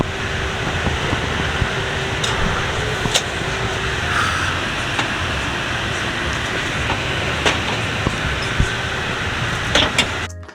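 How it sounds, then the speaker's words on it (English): A train rolls steadily along the tracks with a loud continuous rumble, punctuated by occasional sharp clacks and clicks. "Made it onto the train."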